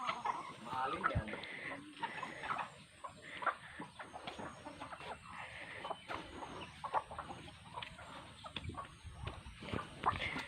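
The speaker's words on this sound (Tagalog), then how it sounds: "Daming manok, oh." Chickens cluck and squawk around a busy outdoor farmyard with ducks and piglets, with a voice talking in Filipino now and then among the birds.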